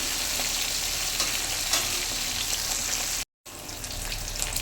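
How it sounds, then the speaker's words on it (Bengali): A large katla fish head frying in oil in a pan, giving a loud, dense, continuous sizzle close by that cuts out briefly and then resumes. "আমার মুড়োটা একটু ভাজা হয়ে গেছিলো।"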